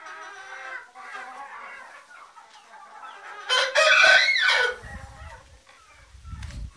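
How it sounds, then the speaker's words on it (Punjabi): Chickens and roosters in a four-cell chicken coop, with clucking hens, a loud close rooster crow in the middle, and low rustling thuds afterward. "ਚਾਰ ਸੀਲਾਂ ਦਾ ਮੁਰਗੀ ਖਾਨਾ ਜੀ।"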